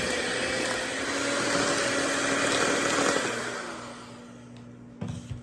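Steady whirring drone of an electric mixer beating whipped cream into strawberry shortcake batter made from a box cake mix, holding a constant pitch before easing off and ending with a few clunks.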